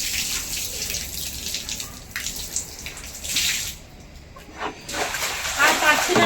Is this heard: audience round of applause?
no